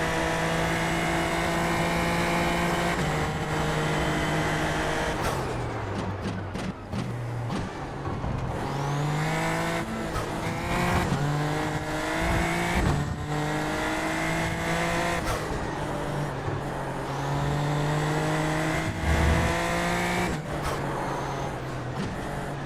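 A Super Formula Lights race car engine in the iRacing video game at Fuji, partly wet, screaming loud and steady down the straight, with gear-shift drops and rising revs throughout.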